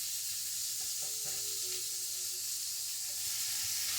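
Thick-cut bacon sizzles steadily in a cast iron pan without oil, a dense, continuous crackling hiss with faint pops, close and unbroken throughout.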